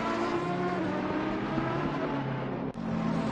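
Onboard engine note of the number 4 Ferrari race car in a sim racing event at Misano, a steady sustained drone with a brief dip near the end, close and continuous with no voices.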